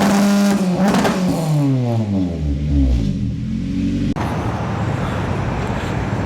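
Acura RSX Type-S fitted with a 1320 Performance header and custom exhaust revving hard, engine pitch sweeping up and down in several loud blips, then settling into a rough, roaring idle, close and alone.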